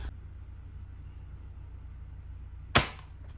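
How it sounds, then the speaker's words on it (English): A single BB gun shot snaps out once near the end, a sharp close crack over a low engine-like hum in a shop. "This is a BB gun."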